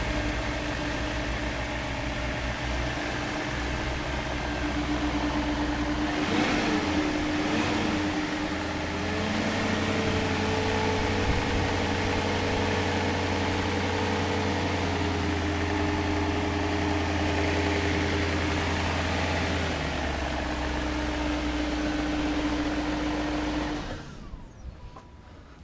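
A 2001 BMW 740i V8 with 251,000 miles idles steadily up close, its low engine drone joined by the whir of the clutched cooling fan spinning throughout, with no talk, before cutting off at the end.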